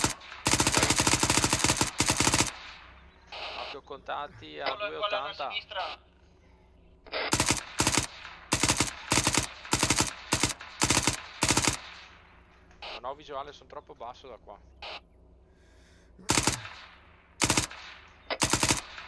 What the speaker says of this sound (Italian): Sento sparare da qui dentro.